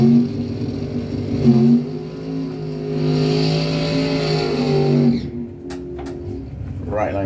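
A race car making a solo drag racing pass at a raceway, its engine holding a loud sustained harmonic roar that swells and then cuts off sharply near the end, followed by quieter crowd and track noise.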